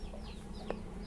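A chicken clucks briefly on a small Indonesian farm, a single soft cluck over a low rumbling background, close but faint.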